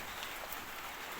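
Morning rain in a village makes a soft, even wash of patter, faint and continuous with no distinct drops standing out and no voices.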